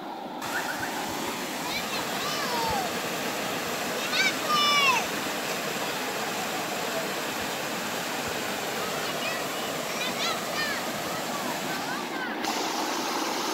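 A countryside river gives a continuous broadband rush of flowing water, with birds chirping now and then and a brief voice or two over it.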